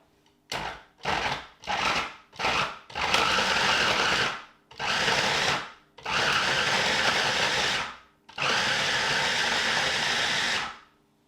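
A KitchenAid mini food chopper chops big blocks of cheese on its low setting, running in four short pulses and then three longer whirring runs, each starting and stopping sharply, loud and close.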